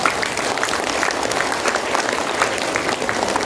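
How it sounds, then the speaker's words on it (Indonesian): A school audience of children claps steadily and loudly together at a national literacy event in Singkawang, a dense, continuous burst of applause with no single voice standing out. "ya tepuk tangan semuanya ikhlas"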